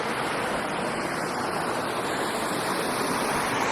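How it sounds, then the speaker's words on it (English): A creek in the Black Hills runs steadily beside a hiking trail, its rushing water a constant, close, broadband roar that stays even throughout with no voices. "And then this creek is half the size of Grizzly Creek"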